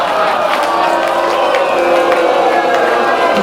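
A large arena crowd at a Coyotes hockey event roars continuously, a dense loud wash of cheering voices with scattered shouts and no break.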